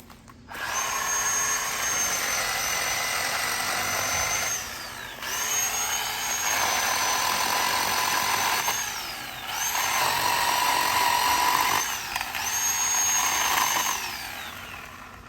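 A Bauer 10-inch 20V cordless chainsaw revs in four long, high-pitched electric bursts, close and loud, with brief quiet gaps as the trigger is released and no talking.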